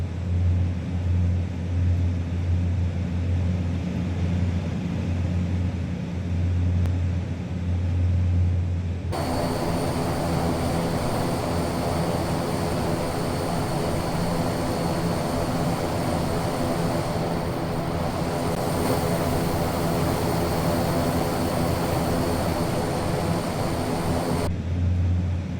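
Fokker F27 turboprop engines in MSFS 2024, a steady, loud drone with whining tones that shifts in character partway through and holds for a long stretch.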